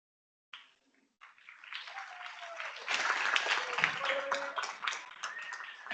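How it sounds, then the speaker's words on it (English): An audience at a literacy training orientation day applauds, a soft, fairly distant patter of clapping that swells and keeps going for several seconds. "I don't know if you could hear the applause, but they clapped."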